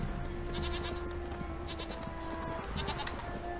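Goats bleat faintly in The Witcher 3 video game, a few thin cries set against a constant steady background ambience with no speech.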